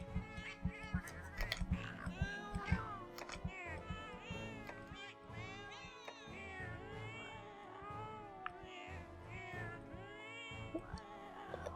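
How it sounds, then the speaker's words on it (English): A sleepy cat voice for a Palico companion in Monster Hunter 4 character creation, a series of drawn-out, wavering meows repeated one after another, fairly close and clear, with faint chewing-like clicks between them. "so I think we'll give him the sleepy cat voice."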